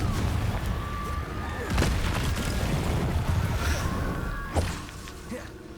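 Blasting-spell explosions in Hogwarts Legacy, a few dull booming impacts over a steady rumbling bed of combat noise, with one thump standing out near the end.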